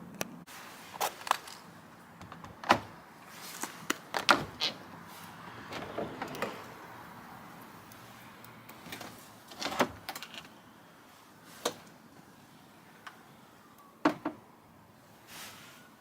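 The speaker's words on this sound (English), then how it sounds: "The doors swing really smoothly, as you can see." The doors of a Keter Store It Out Max plastic storage shed are handled and swung open, producing sparse knocks, clicks and light plastic rattles spread across the stretch, fairly quiet with no talking.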